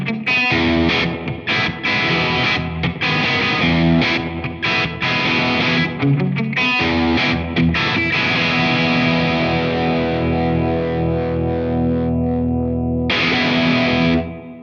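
An offset electric guitar fitted with a Trent Guitars offset bridge is strummed through a driven, chorus-tinged tone, loud sustained chords ringing out and decaying before a final strum, no talking.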